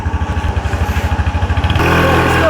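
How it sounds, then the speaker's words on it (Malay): A motorcycle engine as riders set off, loud and close. It throbs in a steady pulsing idle, then rises into a smoother, sustained rev. "Kita naik motor."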